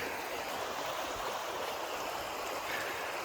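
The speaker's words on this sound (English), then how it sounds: "Middle Fork John Day River looks pretty nice." Flowing water of the Middle Fork John Day River in Oregon's mountains: a steady, broadband rush of current running evenly throughout, fairly close and moderately loud, with no voices.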